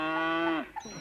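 A buffalo lets out a single loud, drawn-out moo used as a comedic sound effect, clear and close, fading into a brief trailing sound.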